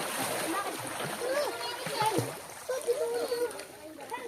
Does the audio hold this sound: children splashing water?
yes